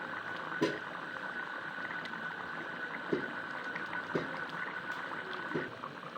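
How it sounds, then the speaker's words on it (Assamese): Chickpea ghugni curry simmers in a pot with a soft, steady bubbling and a few faint pops and clicks, close and quiet, with no voices. "এতিয়া আঞ্জাখন 2 মিনিটমান উতলিব লাগিব।"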